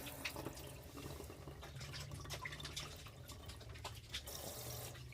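A camper van shower runs with a steady, low hiss of water spray, faint and continuous, with light droplet patter throughout.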